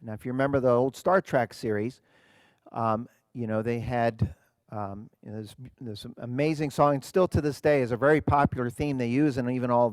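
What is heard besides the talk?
No distinct noise like a dog, phone or traffic.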